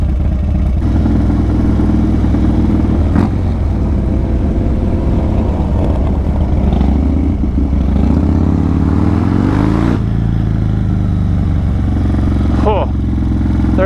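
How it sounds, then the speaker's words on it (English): A motorcycle engine rumbling and shifting pitch as it passes during a solo cruise, loud and close, with revving changes midway and a person talking over it. "I heard a motorcycle."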